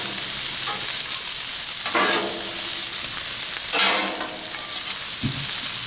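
Colorful bell peppers and onions sizzle on a Blackstone flat-top griddle, a loud continuous crackle broken by two bursts of scraping and stirring as the vegetables are mixed, with no talking.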